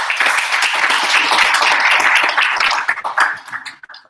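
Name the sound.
applause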